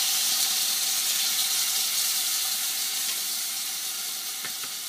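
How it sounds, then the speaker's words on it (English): Coconut cream and red curry paste fry in a pan for Thai red curry, a loud, close, steady sizzle that holds throughout and eases off slightly near the end. "Just enough for you to cook the curry paste."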